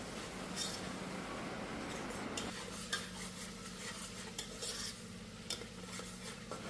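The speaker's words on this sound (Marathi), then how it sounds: "आता हे मसाले चांगले मी परतून घेते, तेलामध्ये चांगले फ्राय करून घेते।" Spices, turmeric and a ginger-garlic-chili paste sizzle gently in oil while being stirred, with soft scraping and occasional clinks of a spoon against the pan, close and continuous.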